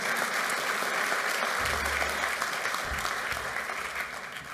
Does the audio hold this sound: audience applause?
yes